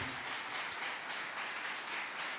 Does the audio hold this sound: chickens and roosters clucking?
no